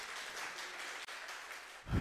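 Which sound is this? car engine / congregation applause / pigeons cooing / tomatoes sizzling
congregation applause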